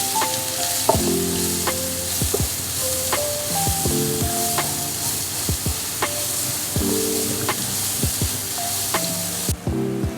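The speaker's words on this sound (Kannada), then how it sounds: "ಈಗ ಈರುಳ್ಳಿ, ಅರಿಶಿನ ಪುಡಿ ಹಾಕ್ತಾ ಇದ್ದೀನಿ" Onions and turmeric powder frying in hot oil for a home-style upsaaru and palya make a steady, close sizzle, with sharp utensil clicks from stirring and a soft tonal melody running underneath.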